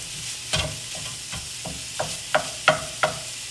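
Food browns in a pan for cornbread dressing while a flat utensil breaks it up, giving a soft sizzle under a series of sharp scraping taps and knocks at irregular intervals.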